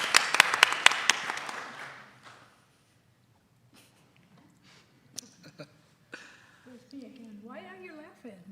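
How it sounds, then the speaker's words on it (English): Audience applause in a hall during a UCSD student-experience symposium, a burst of dense clapping for the ISPO international students office that fades out within about two seconds, followed by quiet room sounds, scattered taps and brief speech. "So clap it up for ISPO one more time."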